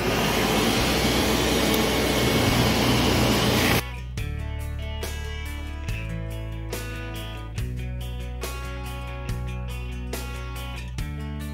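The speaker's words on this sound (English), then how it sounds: "so you don't just hear the vacuum going" A workshop vacuum roars loud and steady for a few seconds, collecting dust from wood lathe turning, then cuts off abruptly, leaving rhythmic background music playing.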